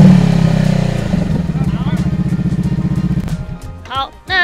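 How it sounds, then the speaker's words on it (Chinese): Honda Rebel 500 motorcycle with a budget aftermarket exhaust, its engine idling and revving in a loud, close, rapid low pulsing throb for about three seconds before dropping away, followed by brief voices. "我们等一下去听一个真正的蝎管的声音，"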